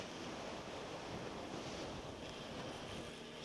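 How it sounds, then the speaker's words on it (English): Strong wind roars steadily across the microphone on the Isle of Man during the TT, a constant dense rushing noise that fills the whole clip with no pauses. "It's a bit fucking windy."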